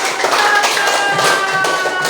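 Schoolchildren in a classroom clap their hands together in a dense, steady patter that fills the whole stretch, loud and close, with faint voices mixed underneath.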